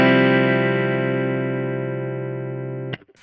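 A single sustained electric guitar chord in a clean tone through a Keeley Verb O' Trem Workstation pedal rings out and slowly decays, then is cut off by a brief muted scratch.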